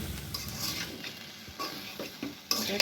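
Onion, garlic and ginger paste fry with spices in a pan, a quiet close sizzle punctuated by intermittent scrapes and taps of a spoon while the paste is stirred.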